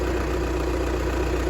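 A Volkswagen Passat TDI diesel engine idling after intercooler cleaning, a steady, even low hum at constant loudness with no voices.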